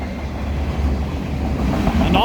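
A Norfolk Southern westbound freight train passes nearby with a steady, heavy rumble and rolling rail noise throughout, no talk heard over it.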